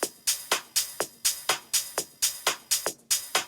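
Percussion loop of sharp, bright hits repeating about every quarter second, with a slightly uneven spacing that makes the pattern stutter; quiet and played alone.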